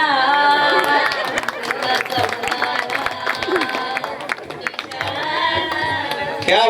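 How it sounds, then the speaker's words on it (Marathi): Audience at a village women's quiz and antakshari contest claps and cheers loudly, a dense crowd of applause and chatter with music-like tones mixed in throughout. "एकदम जोरदार टाळ्या होत्या"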